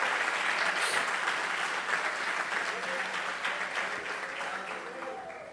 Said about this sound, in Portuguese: Aplaude a Jesus por isso